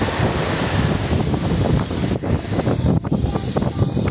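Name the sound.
strong sea waves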